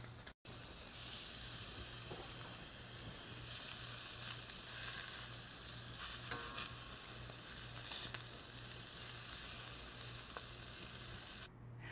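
Salmon kabobs cook on a stovetop pan loosely covered with aluminum foil, giving a steady, soft sizzle and hiss that runs continuously without talk.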